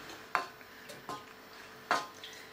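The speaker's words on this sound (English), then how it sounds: "you need to give that a good stir, and you can mash it up a little with a spoon" A spoon stirs and mashes blueberry pear filling for a roly poly, giving a few soft, separate scrapes and clinks against the bowl in quiet surroundings, with no talking.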